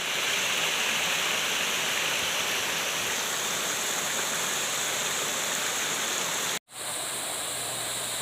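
Water in a canal heading toward the Pa Sak Jolasid Dam rushes steadily as a loud, even broadband roar, unbroken except for one brief cut near the end.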